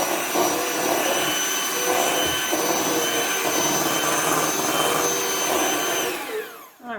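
An electric mixer whirs steadily and loudly while mixing cream cheese filling for puff pastry Danish, then spins down at the end.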